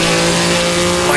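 A Maserati 250F race car engine roars loud and close under hard throttle in a sim racing game, a steady sustained note running downhill on the Nürburgring toward the Flugplatz.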